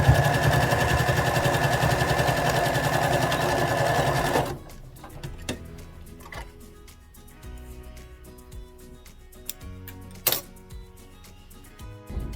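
A sewing machine stitches the short end of a hoodie waistband, a steady close mechanical whir lasting several seconds before stopping abruptly, followed by quiet fabric handling and a few sharp clicks.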